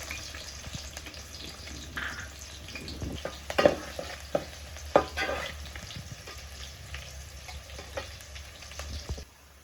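Small shallots fry in a pan with a low, steady sizzle, broken by scattered scrapes and clinks of stirring, one sharper knock near the middle, and no voices.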